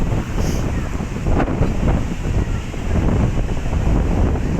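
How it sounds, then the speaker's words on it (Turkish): Strong wind buffets the microphone in a continuous roar at Ilıca Beach in Çeşme, Turkey, with the wash of surf faintly underneath. "Tabii çeşme rüzgarıyla ünlü biliyorsunuz."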